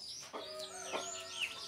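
Hens and young chicks cluck and peep nearby as they are let out of their coop, a faint, busy mix of soft clucks and high chirps with no speech.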